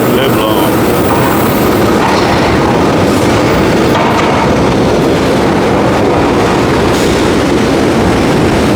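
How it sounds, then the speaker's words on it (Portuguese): A train pulls into a station in Rio de Janeiro with a loud, continuous rumble and clatter of wheels on rails, close and dense throughout. "O nosso trem chegando agora. Sempre uma barulheira infernal, né?"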